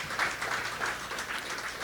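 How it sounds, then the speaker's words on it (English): Audience applause at a Ganesh Utsav religious gathering, steady dense clapping throughout, moderately loud and even, with no break. "Give her a round of applause, please."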